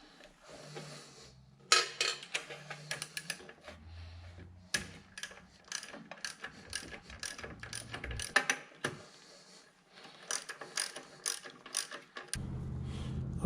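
Hand ratchet with a 13mm socket tightening the cable nuts on a Jeep winch, close clicking in quick irregular runs with pauses, some metallic clinks between strokes.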